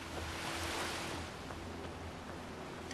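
Surf in Skyrim Dragonborn, a broad wave swelling and breaking early on, then easing into a continuous low wash of water and wind, moderately loud and unbroken, with nobody speaking.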